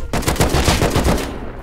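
A rapid, loud burst of automatic gunfire in a first-person shooter game on wipe day, packed shots in a continuous rattle that cuts off abruptly.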